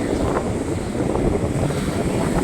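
Strong wind roars over a rough, aggressive sea, with a dense, constant rush of gusts and surging water and no talking.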